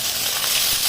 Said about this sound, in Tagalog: ipiprito natin itong atay